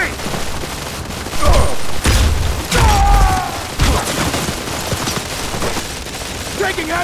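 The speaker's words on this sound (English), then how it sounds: "Taking heavy fire!" Gunfire in the Modern Combat 4: Zero Hour mobile shooter, a loud combat mix of repeated shots and heavy thumps in bursts, with game voices calling out over the fighting.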